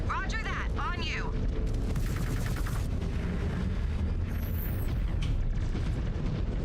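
Missiles and weapons fire in the Mechwarrior 5 Clans mech combat game: a dense, continuous barrage of booms and gunfire, with rising warning sweeps near the start and voices talking throughout.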